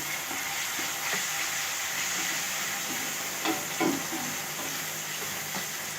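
Tomatoes dropped into a sizzling pan of lightly browned dal with fenugreek, a steady close hiss of frying with a couple of soft stirring thumps.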